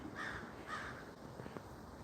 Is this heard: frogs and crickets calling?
no